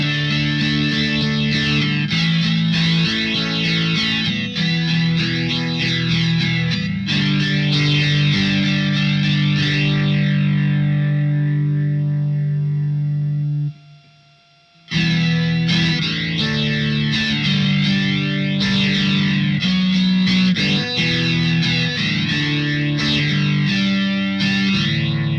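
An electric guitar through the Sonicake QGT-01's spatial, shimmering effect plays chords and single notes with a sparkly, somewhat toy-like modulated wash. The playing briefly pauses to near silence, then resumes.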